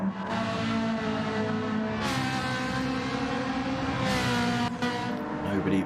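Bugatti race car on a circuit during a night GT championship race, its engine droning steadily and loud throughout with a couple of rising surges as it accelerates, speech faintly mixed in.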